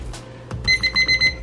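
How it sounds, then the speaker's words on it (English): A kitchen timer beeps in quick repeated bursts, loud and close, while flounder and potatoes cook during an outdoor catch-and-cook meal; a low background rumble runs underneath. "5-minute timer."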